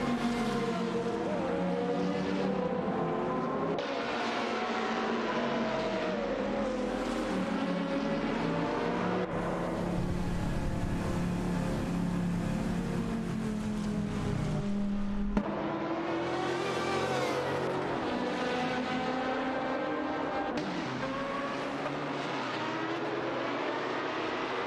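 AI-driven race cars accelerate and corner: close, loud, whining engine notes climb and fall in repeated sweeps, with brief shifts as the cars pass and change speed.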